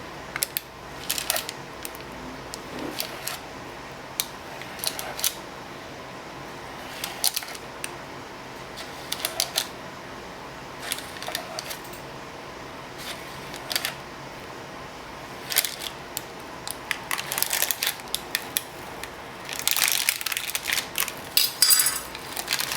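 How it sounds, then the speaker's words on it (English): Cream cheese danish pastry dough being cut, heard as scattered light knife clicks and taps on a work surface, with a busier cluster of clatter near the end and no talking. "we're going to cut the other side just like we did the first"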